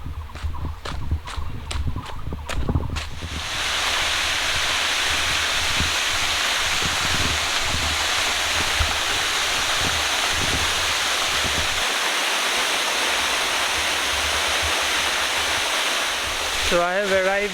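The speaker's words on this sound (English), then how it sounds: "So I have arrived at this beautiful Tuirihiau Waterfall." Tuirihiau Waterfall in Mizoram roars as a loud, steady broadband rush of falling water that fills the scene after a few seconds of footsteps and rustling, with a brief voice at the very end.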